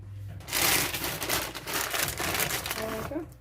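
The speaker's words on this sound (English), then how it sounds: "We're going to add some mozzarella." Shredded mozzarella being dropped into a creamy chicken and pasta casserole, a close, dense rustling and crinkling lasting a few seconds, with a voice briefly heard at the end.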